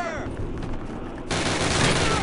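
Heavy gunfire in the shooter Call of Duty, steady automatic bursts that swell into a dense, loud fusillade midway through with no pause.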